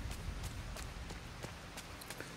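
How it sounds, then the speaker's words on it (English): Steady rain falls in the video game Disney Dreamlight Valley, a constant even patter with a few sharper drop ticks, heard alone and close throughout. "It's awful rainy."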